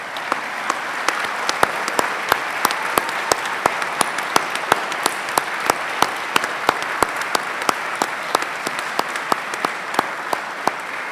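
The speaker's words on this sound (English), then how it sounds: "Graduates, would you please join me in a huge round of applause?" Applause from graduates for academic and professional staff at a university graduation ceremony, a large hall filled with sustained, even clapping from many hands, with sharp individual claps standing out throughout, no speech over it.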